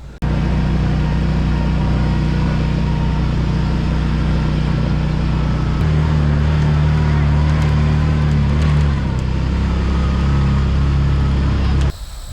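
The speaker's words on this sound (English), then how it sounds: "we're gonna hop on the UTV, and then Alan's gonna hop on the ATV" UTV climbing a mountain track in Tennessee, a loud continuous engine drone with a shift in pitch midway, heard close from on board with brief talk mixed in.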